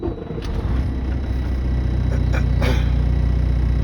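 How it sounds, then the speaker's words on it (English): A truck's diesel engine turns over and settles into a steady, loud low rumble that stays close and constant throughout. "Neutral, start the truck."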